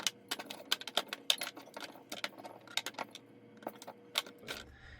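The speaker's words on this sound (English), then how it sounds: "I shake it a little bit in the Pyrex 323 bowl to knock off the loose leaves" Trimmed Brussels sprouts shaken in a Pyrex 323 glass bowl to knock off loose leaves, a quick series of close, sharp rattling taps and knocks in uneven bursts, alone and fairly quiet.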